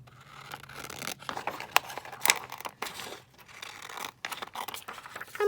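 Paper is cut and handled for a specimen slide craft, giving a series of close, irregular crinkles, snips and rustles with short pauses between them.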